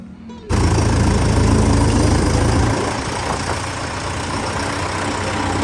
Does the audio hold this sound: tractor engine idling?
yes